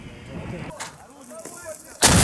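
Self-propelled artillery gun of the Oplot unit firing near Dokuchaevsk, a sudden loud close blast bursting in at the end after a quieter stretch.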